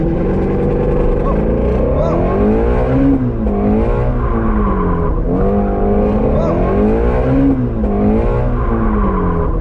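A Ford Mustang Shelby GT350 on a race track, its engine roaring loudly and continuously close by, pitch climbing and dropping through repeated acceleration and gear changes, with a faint tire squeal.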